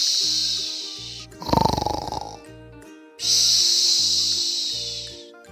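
A voice imitates a sleeping lion snoring, a single breathy hissing snore of about two seconds, rising between stretches of soft, gentle background music.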